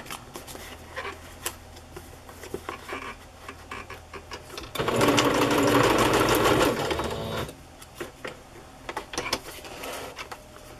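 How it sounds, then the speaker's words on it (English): A sewing machine stitches fabric and lace onto a journal tag, giving a steady loud whirring run of about three seconds between quieter clicks and handling noises. "I'm going to sew that down."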